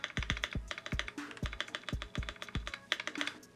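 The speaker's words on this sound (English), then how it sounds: "now that I'm actually typing on it, I am hearing that there's something going on with my space bar here" Brisk typing on a Keychron Q2 mechanical keyboard with an aluminum plate and a slightly faulty space bar: quick, crisp clacks in uneven bursts, punctuated by deeper thocks every half second or so, close and without talk.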